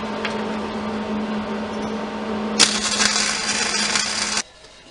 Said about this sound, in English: We'll get this welded on there.